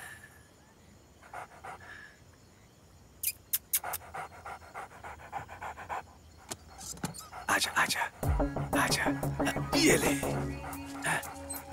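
Dog panting close by, with brief whimpers, while a man calls and coaxes it over light vehicle noise.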